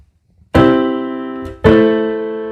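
Two sustained piano chords in a progression, the mediant chord next to the submediant, each struck cleanly and left to ring and decay, the second following after about a second, with no voices present.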